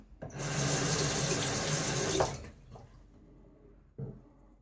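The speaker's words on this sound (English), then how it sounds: "Rinsing away that pass." Tap water runs into a sink for about two seconds while a razor is rinsed after a shaving pass, a close, steady splashing rush that stops abruptly, followed by a quieter pause and a brief splash.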